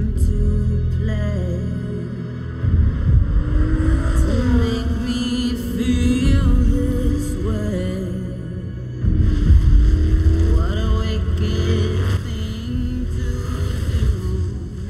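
Car engines racing in Forza Horizon 3, an open-world driving game set in Australia, roar loudly and continuously with rising and falling revs and gear changes, with no voices.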